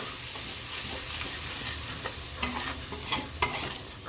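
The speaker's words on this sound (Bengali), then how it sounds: "জল দেওয়ার পর আমি আবার ভালো করে মশলাটা নাড়িয়ে নেব" Spice masala stirred with a splash of water in a pan for chicken chap: a constant loud sizzle and hiss, with a few sharper stirring scrapes near the end and no voices.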